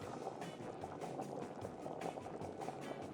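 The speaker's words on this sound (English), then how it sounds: "As soon as the water begins to boil" Water in a pot with garlic, peppercorns and salt bubbles at a steady, continuous rolling boil, close and even throughout with no talking.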